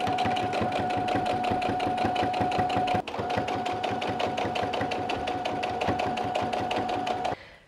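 Sewing machine stitching jersey fabric segments of a stuffed dragon tail, running at a steady fast rhythmic pace for about seven seconds with a brief hitch partway through, loud and close, then stopping.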